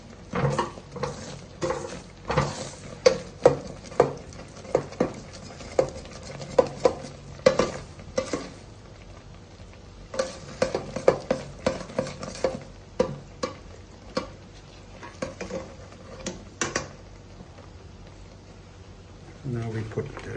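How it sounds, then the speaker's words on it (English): Sweet potato and coconut dessert is stirred in a pan, with repeated scraping and tapping strokes in an uneven rhythm over a soft background, while a voice talks at times. "Keep stirring it until it getting dark red."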